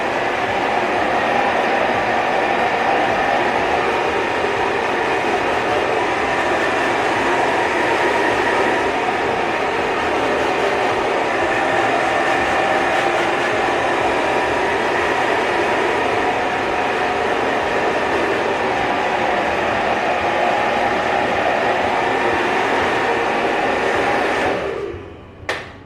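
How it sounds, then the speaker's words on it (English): Blow dryer set on low, drying freshly washed, damp hair: a steady broadband whoosh of airflow running nearly the whole time, loud and close, switching off abruptly near the end with no talk over it. "And the first thing you're going to do is grab your blow dryer,"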